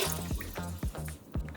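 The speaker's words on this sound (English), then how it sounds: "I'm going to start by putting the water in this big pan." Cold water pours and splashes into a big cooking pan, close and fairly loud, with a few rhythmic gulping surges from the pour and no talk.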